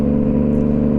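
Close motorcycle engine between widely spaced gear shifts, a loud, steady low hum holding one pitch for about a second with no audible change.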